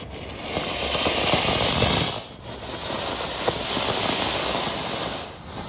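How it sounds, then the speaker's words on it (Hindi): Strings of firecrackers crackle at a Diwali celebration, a dense, continuous rattle of rapid pops and bangs that dips briefly, then carries on loudly at close range. "अब चलाए जा रहे हैं पटाखे"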